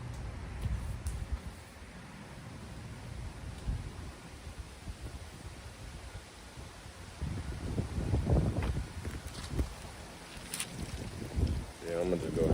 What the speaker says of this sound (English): Told y'all, man, this damn wind.